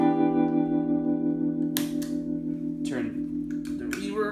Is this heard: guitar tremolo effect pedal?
yes